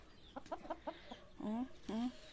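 Chickens in a village yard give a short run of quick clucks followed by two drawn-out, rising calls, close by and fairly faint.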